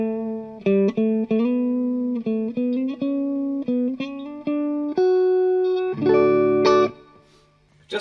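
A Stratocaster electric guitar plays through an Ultimate Time Machine analogue delay and reverb pedal. A run of sustained single notes gives way to a louder strummed chord that rings out and decays into a faint reverb tail.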